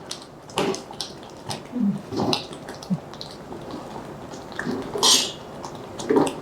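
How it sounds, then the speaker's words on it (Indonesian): A spoon stirring bubur kanji rumbi porridge in a pot, with irregular clinks and scrapes against the metal and soft bubbling between them. "Ini harus terus diaduk"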